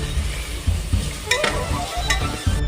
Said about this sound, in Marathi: थोडासा लसूण घालून घ्यायचा आहे आणि छान असं परतून घ्यायचं आहे